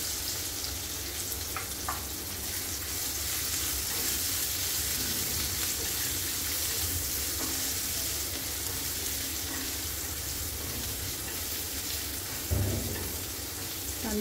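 Chopped onion fries in a pan with green chillies and garlic for a pumpkin vegetable dish, a steady close sizzle with occasional stirring clinks and a brief knock near the end.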